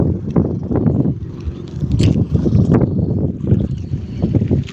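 A motor boat travels past on the open sea, its low engine rumble pulsing unevenly and close by, mixed with gusty wind buffeting the microphone.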